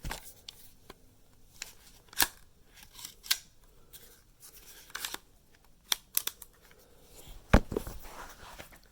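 Metal parts of a Ruger 22/45 Lite or KelTec CP-33 pistol being handled, with the slide release pushed up, giving sparse sharp clicks and clacks spread among quieter handling noises, close and fairly faint.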